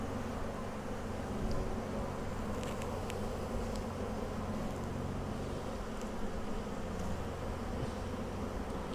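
Honey bees in a Flow Hive being split hum in a low, steady drone, faint and continuous, with a few brief clicks and no talking.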